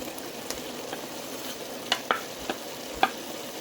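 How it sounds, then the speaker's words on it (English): Garlic and onions sautéing in a pot on the stovetop for beef stew, with a close, even sizzle and several sharp stirring clicks from a spoon. "Once you've done with your garlic, add your onions."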